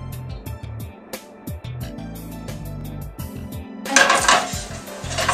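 Turkey sausage is flipped in a frying pan, with a few clanks and scrapes of a utensil against the pan, then a brighter burst of sizzle as it lands, close by, with no talk.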